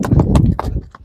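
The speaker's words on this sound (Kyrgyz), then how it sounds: "Чабылып жүргөн ат." Hooves of a Kyrgyz horse clip-clop in quick, close, uneven beats, a brief burst of hoofbeats that thins out toward the end.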